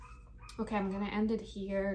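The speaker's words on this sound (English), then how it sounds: "The barking didn't stop, so sorry about the noise" A dog barks and yips in the background while a person talks over it, the barking continuing steadily through the speech.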